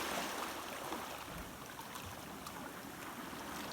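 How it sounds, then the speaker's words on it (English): Water flowing and moving outdoors at sunset near old rocks, a faint, steady wash of rushing and lapping water with no voices. "Thinking of the movement of this water."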